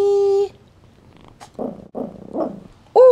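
A kitten purrs close up in steady rumbling pulses between bursts of sharp, high-pitched sound at the start and end.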